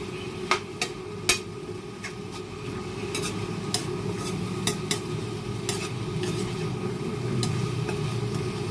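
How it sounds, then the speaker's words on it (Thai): Pork being dry-stirred in a hot pan with salt and fermented fish sauce for a Thai curry, a steady low sizzle with sharp scraping and tapping strokes of the spatula at irregular intervals, close and alone. "แล้วก็คั่วหมูให้สุก"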